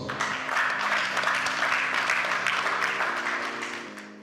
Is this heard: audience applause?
yes